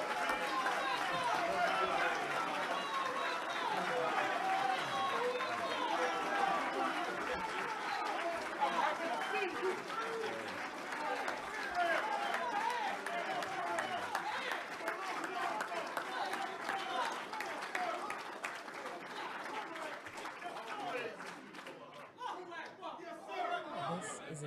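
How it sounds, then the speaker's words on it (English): Audience welcoming Brother Kareem with a long, dense round of applause mixed with crowd chatter and scattered laughter, strong at first and gradually thinning and fading toward the end, with voices heard throughout. "Would you give him a warm round of applause?"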